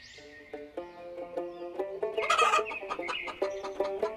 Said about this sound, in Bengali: একদম মুরগির চিৎকার শুনতে পেলাম মনে হলো